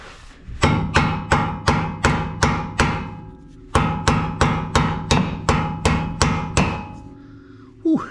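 A hammer strikes a Ford Super Duty truck ball joint in a run of sharp, ringing metallic blows, about six in steady rhythm, a short pause, then seven more, close and loud.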